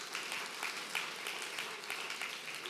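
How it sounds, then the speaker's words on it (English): A church congregation at an anniversary service claps steadily and fairly loudly in a continuous wash of applause. "Let's give God another clap offering."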